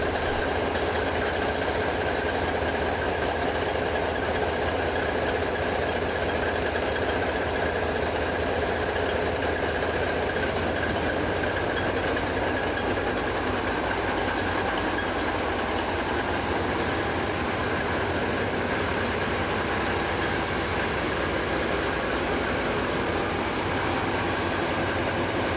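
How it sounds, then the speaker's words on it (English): The main engines of a ship run steadily after startup, a continuous loud rumbling drone with a constant mechanical hum that stays even throughout, with no talking. "Both main engines are running now."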